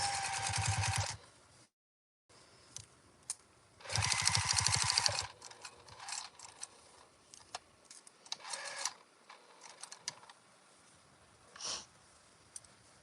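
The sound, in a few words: sewing machine stitching fabric pieces of a bowl cozy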